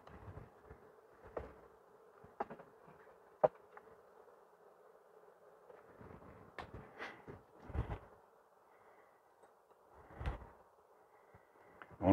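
Honeybees hum steadily around an opened hive of acacia-season colonies, with a continuous mid-pitched drone broken by occasional knocks and handling bumps from the frames, fairly faint overall.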